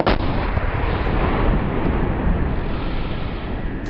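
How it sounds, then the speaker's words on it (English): A single loud, booming punt gun blast hits at the start, followed by a long rumbling roar that fills the rest of the clip. "Look at that explosion."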